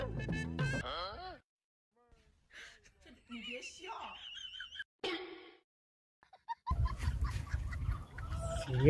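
Chicken clucking in a rural village setting, a few short close calls standing apart from spoken voices and other scattered sounds.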